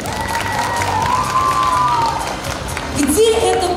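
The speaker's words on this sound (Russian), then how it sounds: "аплодисменты!" Audience applause and cheering at a spring concert, a steady crowd wash of clapping throughout with a brief tonal voice or instrument rising near the end.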